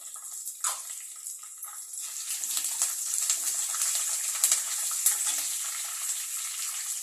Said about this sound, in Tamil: அதையும் நல்லா கிறிஸ்பியாக வறுத்துட்டு காஞ்ச மிளகாய் போடுறேன். கருவேப்பிலை கொஞ்சம் போடுறேன்